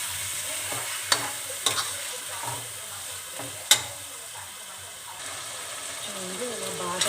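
Minced keema fries in oil in a pan while being stirred, giving a steady sizzle with a few sharp spoon clinks against the pan; a voice talks faintly underneath.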